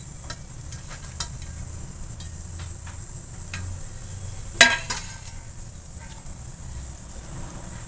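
Onion bhaji batter being mixed in a bowl, with soft scraping and stirring, scattered light clinks and one sharper knock midway, all close and fairly quiet over a low background hum.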